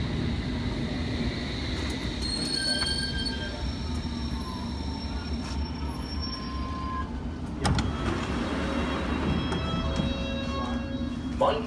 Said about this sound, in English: Yeah, my train coming finally.